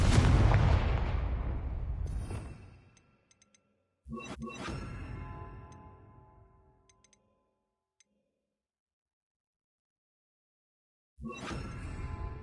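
Confringo fire spell explosions in the video game Hogwarts Legacy: a loud close boom fading into a long decaying rumble, a second sharp blast with ringing tail, then silence before a third blast begins.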